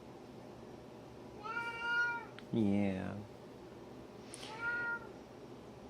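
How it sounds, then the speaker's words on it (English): A cat meows three times nearby in a quiet indoor room, a short cry, a louder drawn-out wail, then a softer call, with a person briefly speaking between them. "You poor little kitty."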